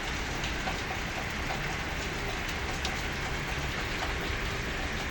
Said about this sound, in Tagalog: Baka maghapon tong ulan na to.